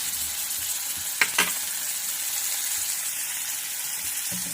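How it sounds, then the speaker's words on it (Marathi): Eggplant bharit with coriander and tomato sizzles steadily in a hot pan, a constant frying hiss broken by two brief clinks of stirring. "आपलं आता छानपैकी याला असं फ्राय करून घ्यायचं आहे"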